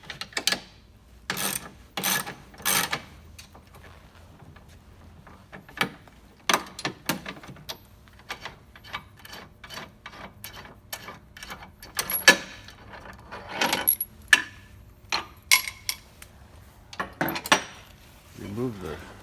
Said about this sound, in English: you take the bolts and the nuts off the hub